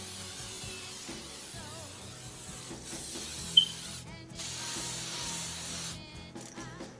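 Hairspray is sprayed onto a bouffant pinup updo in two clear hissing bursts, one after the other, over low background rustling and clicks.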